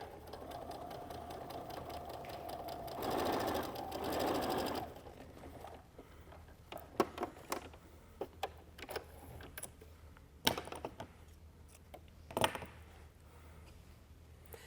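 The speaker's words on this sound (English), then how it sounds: "I don't bury my needle when I start to sew this half square triangle to the trapezoid" A domestic sewing machine runs in a steady, close whirring burst as it stitches a half-square triangle to a trapezoid for a spinning spool quilt, followed by quieter clicks and handling noises.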